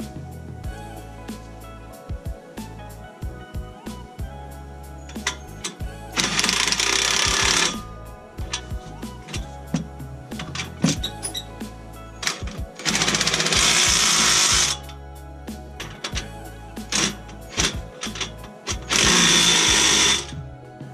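Power tool bursts tightening the H-pipe clamp bolts on a 2018 Mustang GT exhaust, three loud rattling runs of about two seconds each, separated by quieter clanking and handling noise.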